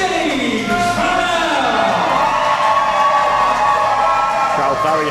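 A wrestling crowd at a Wrestle Force show in Braintree cheers for winner James Pharrell, sustained loud cheering and whooping from many voices filling the hall without a break.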